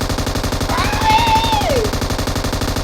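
Rapid automatic gunfire in PUBG Mobile, a dense continuous burst of shots running the whole clip at steady loudness, with a brief whooshing game effect sweeping over it partway through.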